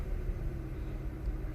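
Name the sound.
Vauxhall Corsa D Z14XEP engine idling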